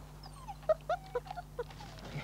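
Captive-bred wolf pups whimper and yip at feeding time, a string of short, high, close whines coming in quick uneven bursts over a low steady hum.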